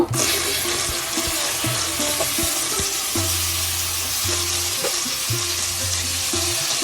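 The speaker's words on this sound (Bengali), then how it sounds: "ডালটা দিয়ে আমি ভালো করে কিছুক্ষণ ভেজে নেব।" Blended lentil paste frying in hot ghee, a loud, continuous close sizzle with occasional stirring knocks against the pan throughout.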